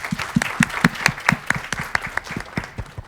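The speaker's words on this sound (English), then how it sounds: "Can we applaud Kenya as well?" Audience in a conference hall applauds for Kenya, a short burst of steady, close clapping from a modest crowd, fading slightly toward the end.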